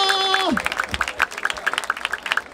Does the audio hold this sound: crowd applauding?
yes